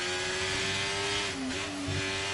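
A race car lapping the Monaco circuit produces a continuous, steady engine whine that dips and shifts slightly in pitch as it drives through a corner, with no other sounds.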